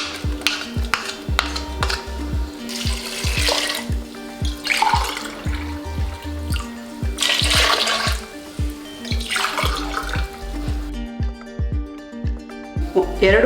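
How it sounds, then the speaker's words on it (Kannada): Half a glass of water splashes and gurgles in repeated bursts as it is poured into a metal pot of pigeon peas, onion and tomato, with clanking knocks in between; no talking. "ಅರ್ಧ ಲೋಟ ನೀರು ಹಾಕ್ಕೊಂಡಿದ್ದೀನಿ."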